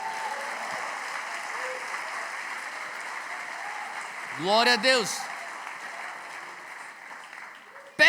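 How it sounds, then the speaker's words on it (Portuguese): A church congregation at a conference applauds, a broad steady wash of clapping running throughout, with a brief spoken phrase breaking in over it midway. "aplauda Jesus bem forte"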